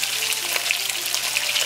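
A salmon fish head pan-frying in oil over high heat gives a steady, close crackling sizzle with scattered sharp pops and spits, unbroken and with no talking.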